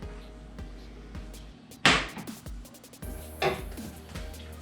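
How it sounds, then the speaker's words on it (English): A frying pan is pulled out in a home kitchen, with a few sharp metallic clanks and clatters of cookware knocking together, close and fairly loud against quiet room tone, no talking. "Then I get a pan."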